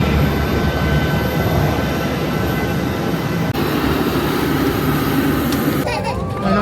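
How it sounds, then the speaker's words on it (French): Airplane engines roar steadily through a takeoff run on a delayed budget flight to Marrakech, a loud continuous broadband drone heard from inside the cabin that shifts slightly partway through. "Là, on va enfin décoller."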